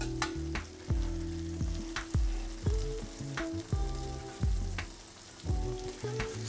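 Onion and tomato sizzle steadily in a frying pan alongside other breakfast cooking, with a constant close hiss and repeated clanks and scrapes of a utensil, and no voices.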